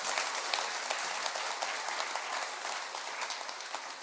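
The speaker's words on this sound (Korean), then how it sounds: "박수 한번 크게" A large crowd claps steadily and evenly at a Buddhist dharma assembly, a faint, distant wash of applause lasting several seconds with no voices.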